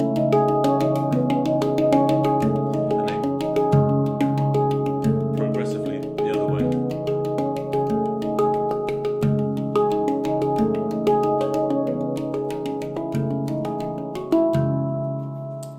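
A handpan plays a continuous stream of ringing, overlapping metallic notes at a steady, fairly even loudness, close and alone without talk.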